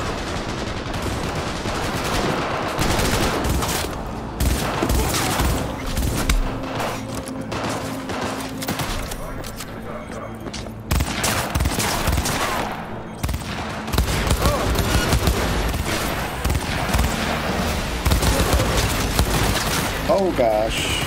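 Gunfire in the Cyberpunk 2077 video game: sustained bursts of rapid shots and booming impacts run for about twenty seconds, loud and dense, with game music and effects beneath.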